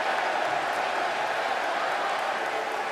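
A basketball arena crowd in Minnesota jeers a foul call with a steady, broad roar of booing and noise, loud and continuous throughout.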